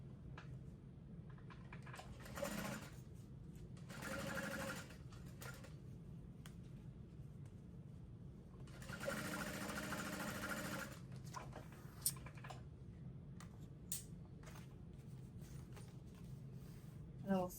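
A sewing machine stitching handbag lining, bursts of steady whirring stitching broken by pauses, fairly quiet, with a person talking nearby in between.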